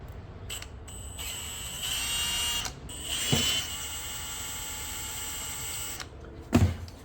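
A steady high-pitched whine of a small drill enlarging a Holley carburetor jet for a 1971 Mustang, close by, pitch shifting as it bites, with brief clicks and a sharp knock near the end.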